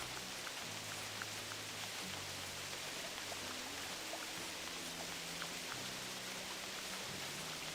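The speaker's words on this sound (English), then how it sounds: "And it's gonna be even more difficult to spot this in the rain." Steady rain falls throughout in the hunting game theHunter: Classic, a dense, even hiss of drops pattering with a low droning hum beneath, constant and fairly loud with no talking.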